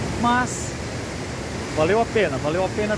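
A waterfall in Brusque, Brazil, pours on in the rain as a steady broadband rush beneath someone speaking Portuguese, whose voice sits clearly on top.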